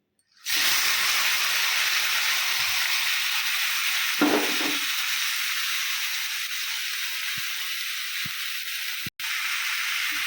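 Bhakura fish frying in hot oil in a kadai gives a steady, loud, broad sizzling hiss that starts abruptly and holds throughout, with a brief surge of bubbling partway and a short cut near the end.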